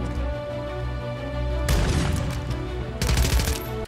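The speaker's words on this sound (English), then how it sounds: "Let's see if I stop missing these shots, Aaron." Shotgun fire in the Warzone video game, loud blasts over a droning background, with one burst near the middle and another toward the end.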